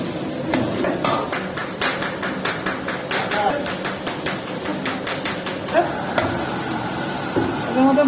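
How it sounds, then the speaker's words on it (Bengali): Chicken pieces lightly fry in a spice masala, a moderate sizzle broken by repeated scraping and clinking strokes of a spoon against the pan, close and fairly rhythmic. "মশলার মধ্যে আমরা প্রথমত চিকেন গুলোকে একটু হালকা ফ্রাই করে নিচ্ছি"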